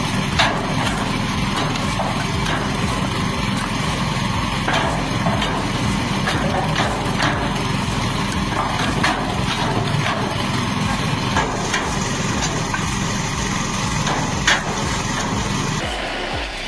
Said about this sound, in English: One engine and what feels like 10 extra arms splitting wood.